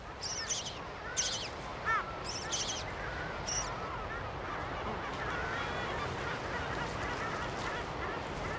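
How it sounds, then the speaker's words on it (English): A busy Mediterranean gull colony fills the background with a steady murmur, while harsh, honking calls break out in short bursts, mostly in the first few seconds. "Gull colonies in the Mediterranean, as anywhere else in the world, are busy, noisy places"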